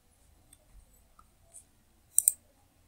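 A computer mouse gives a quick double click, faint and close, after a few softer ticks in a quiet room.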